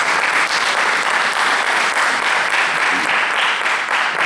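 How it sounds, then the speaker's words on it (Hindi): Steady, dense applause from a Holi Hindi poetry event audience in Houston welcomes the MC, loud and unbroken for the whole stretch with no voices rising above it. "जोरदार तालियों से स्वागत करें हमारे आज के MC"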